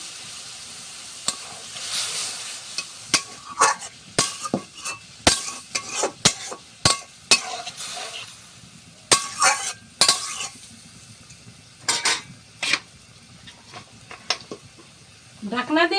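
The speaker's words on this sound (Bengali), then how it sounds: "এবার আমি সামান্য একটু জল দিয়ে সিদ্ধ করে নেব।" Butter chicken simmering and sizzling in a pan after a splash of water, a steady hiss broken by repeated sharp clinks and scrapes of a spoon stirring against the metal.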